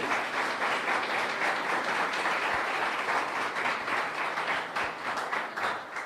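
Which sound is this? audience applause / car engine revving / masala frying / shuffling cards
audience applause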